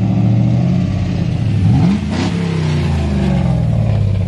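A truck engine runs steadily and loudly throughout, with its pitch climbing and shifting briefly midway like a short rev before settling back into a constant drone.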